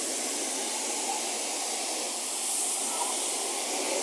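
A steady, even hiss of spray as crud remover is sprayed onto a truck's fender flare, continuous and fairly quiet with no pauses.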